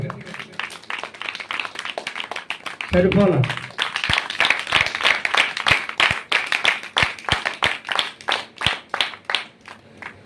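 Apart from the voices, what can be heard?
congregation clapping loudly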